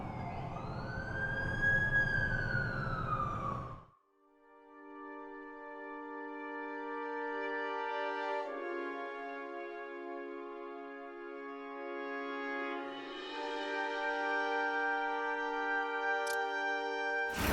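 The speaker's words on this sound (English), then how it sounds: "That's the ambulance I called." Ambulance siren in the video game The Amazing Spider-Man 2, a steady sustained wail following a loud whooshing burst at the start, continuous and fairly prominent with shifting tones later.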